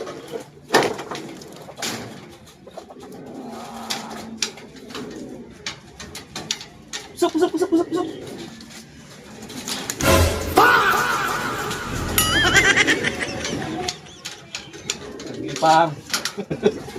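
Young pigeons coo and call near a rooftop loft, soft throaty sounds mixed with wing flutters and knocks, while someone talks and calls out over them.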